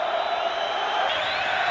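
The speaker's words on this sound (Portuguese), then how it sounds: "Faz barulho a torcida do Fluminense." Fluminense supporters roar in a packed football stadium during the 1998 Carioca championship final against Vasco, a broad, continuous crowd noise, distant and steady.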